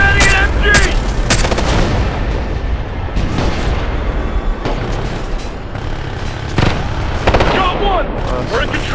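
Mounted machine gun fire and explosions in the military shooter Ghost Recon: Future Soldier, loud dense bursts and booms throughout a chaotic firefight, with soldiers shouting over the gunfire.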